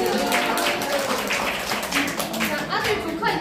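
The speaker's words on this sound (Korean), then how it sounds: "박수 좀 쳐주세요." An audience applauds at a live talk, a dense burst of clapping that fills the space, with a speaker's voice carrying over it.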